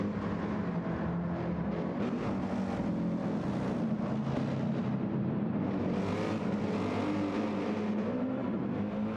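A GT race car engine in the video game Gran Turismo 7 roars continuously at high revs at Yas Marina, loud and steady, with no voices.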